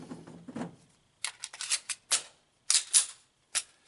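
Sharp gunshots from a 22 TCM pistol with a 4-inch barrel and double-stack magazine, about six crisp cracks in uneven quick succession, loud and close, after brief low murmuring at the start.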